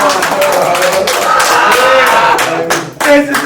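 An audience claps for Young C in a short, loud burst of applause with scattered taps and a crowd feel, no clear talk over it.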